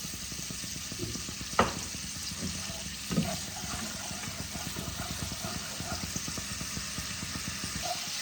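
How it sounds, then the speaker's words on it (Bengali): Spice paste with turmeric and salt sizzles steadily in a pan for an ilish fish curry with black cumin and green chilli, a soft continuous frying hiss with a couple of sharp clinks of a spoon. "এবার আমি এর মধ্যে হাফ চামচ হলুদ গুঁড়ো আর হাফ চামচ লবণ দিয়ে ভালো করে মশলাটাকে কষিয়ে নেব।"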